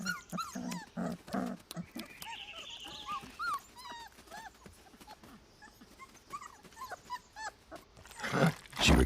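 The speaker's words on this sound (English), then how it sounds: "They smack their lips to beg for food." Wolf pups beg for food with a busy run of high whimpers, whines and yips, close and overlapping, with a few louder bursts near the end.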